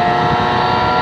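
A rally car's engine roars loud and close in one continuous, strained drone with no break.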